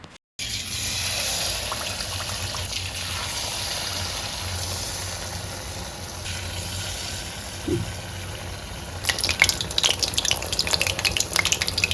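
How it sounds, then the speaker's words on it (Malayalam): Batter-dipped tapioca pieces frying in hot oil, a steady close bubbling sizzle that runs the whole time and grows busier and crackly near the end, with no talking. "ഇനി നമുക്ക് കട്ട് ചെയ്ത് വെച്ചിരിക്കുന്ന കപ്പ ബാറ്ററിൽ മുക്കിയിട്ട് ഇനി ഫ്രൈ ചെയ്തെടുക്കാം"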